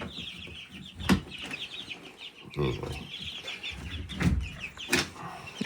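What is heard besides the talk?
backyard birds clucking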